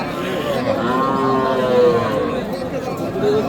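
Young bulls and heifer calves at the Raniganj livestock market, with drawn-out moos rising and falling beneath a hum of crowd chatter and nearby voices.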